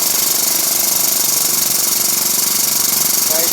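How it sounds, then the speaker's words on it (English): An air-over-hydraulic post vise, worked by a foot pedal in a blacksmith's setup, runs with a loud, continuous, rapid mechanical chatter and pulsing drone, heard alone and close by. "It's got an air over hydraulic foot pedal here."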